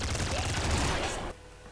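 A laser minigun in the video game Nuclear Throne fires a dense, loud burst of rapid shots that cuts off abruptly after about a second.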